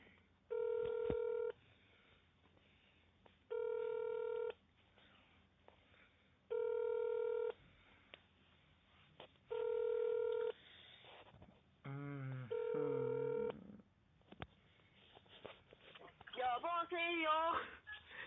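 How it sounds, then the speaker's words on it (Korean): Ringback tones from a placed telephone call pulse at even intervals, about five clear rings, followed by warbling electronic tones and a voice near the end. "한번 전화를 해봐 렛츠고"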